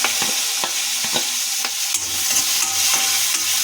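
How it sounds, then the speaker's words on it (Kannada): Chopped onions fry in a pan for Uttar Karnataka beans palya, a continuous close sizzle broken by sharp clicks and scrapes of a spoon stirring against the pan. "ಈರುಳ್ಳಿ ಫ್ರೈ ಮಾಡ್ಕೋಬೇಕು"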